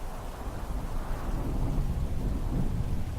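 Thunderstorm in the game Three-Fourths Home, a deep continuous rumble of thunder over steady rain, dense and moderately loud with no voices.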